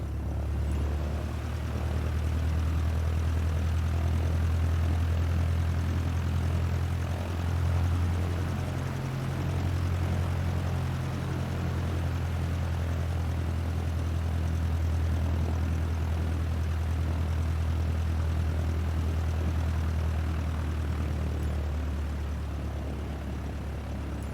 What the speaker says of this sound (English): Now slowly taxi onto the runway and align the plane with the center line.